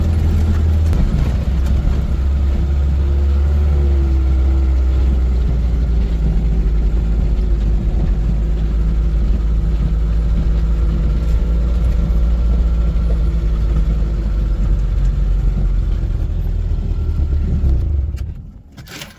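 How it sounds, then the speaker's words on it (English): Old 1946 Russian car with its engine droning steadily as it drives over solid mud dirt tracks in volcanic country near Baku, Azerbaijan; a loud continuous low rumble with rattling, fading out at the very end. "Russian car got us up here safely"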